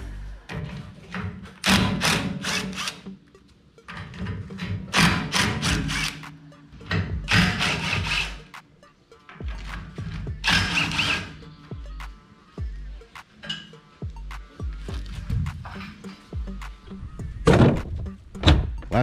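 Side bunks come off a boat trailer in bursts of loud thumps, clunks and scraping of wood and metal, separated by quieter pauses, close by with little talking.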